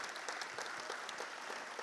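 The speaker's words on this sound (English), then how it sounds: "how about another round of applause for all of our new Hall of Fame inductees?" Faint, steady applause from an audience at a high school Hall of Fame induction ceremony, an even crowd of clapping heard at a distance throughout.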